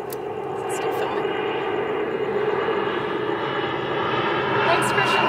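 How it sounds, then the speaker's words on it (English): An airplane comes in overhead on approach, its engine roar a steady, broad drone that holds loud and unbroken throughout, passing above an outdoor spot where a car tire is being changed. "we have another plane coming in anyways"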